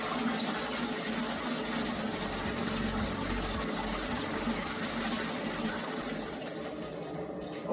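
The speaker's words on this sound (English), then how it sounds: "Obviously, as the toilet is now being flushed" A toilet flushing in a washroom with the lid down, a steady loud rush and gush of water running through the whole stretch, tapering slightly near the end.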